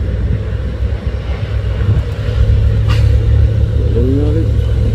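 A loaded truck trailer labours up the Bukit Kodok hill climb while being overtaken, its deep engine drone loud and continuous with a rising roar toward the end.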